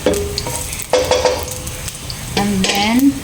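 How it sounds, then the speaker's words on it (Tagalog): Butter hits a hot pan with golden-browned garlic, crackling and sizzling in several bursts as it is stirred, with scraping of a utensil against the pan between the louder spurts. "lagyan na natin ng butter"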